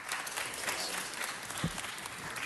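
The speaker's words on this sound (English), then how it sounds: "Give him a big round of applause." Audience applause at a Waste Management event honoring its Southern California market area director, a steady wash of clapping from a crowd across the whole stretch, moderately loud with no talking.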